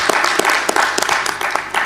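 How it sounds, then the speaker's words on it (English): Audience at an Africa coffee summit gives a round of applause, brisk overlapping clapping with a few distinct sharp claps, fairly close and steady over a short stretch. "Please give her a round of applause."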